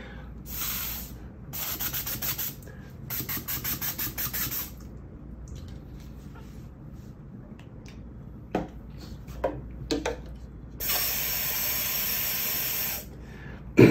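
Bursts of hard-blown atomizer spray sending a fine mist of paint, several hissing puffs of a second or so each, then a longer steady blast near the end, close and fairly loud over a quiet room.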